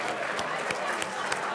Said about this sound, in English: let's give a big round of applause to all of our sponsors.